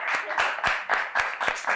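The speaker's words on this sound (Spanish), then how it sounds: "Timón y Pumba, a ver, un aplauso." A small group of people on a summer movie-quiz podcast applauds a team: brisk, close hand-clapping with distinct sharp claps in an uneven rhythm, lasting under two seconds.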